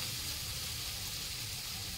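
Oil sizzles and hisses steadily in a pan as black pepper powder is stirred into chicken fried rice, a continuous close frying noise with no talking.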